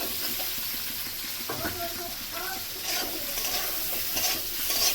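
Potatoes added to spices frying in oil for a Bengali rui fish curry, a close, continuous sizzle with stirring scrapes and clinks against the pan.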